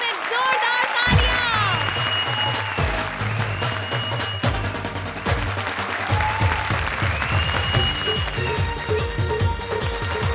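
Studio audience at a comedy show claps loudly as a challenger pair is introduced, with music swelling underneath and bright stabs over the continuous applause for about ten seconds.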